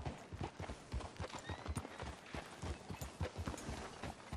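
Rhythmic clip-clop of horse hooves walking at a steady pace in the video game Red Dead Redemption 2, close and clear against a light background hiss.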